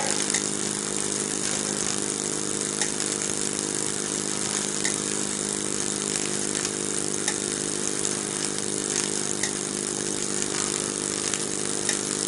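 A Lutz Hielscher model steam engine drives a generator and trip hammers on a small wooden base, giving a constant, even mechanical whir and buzz with a steady hum, close and unbroken throughout.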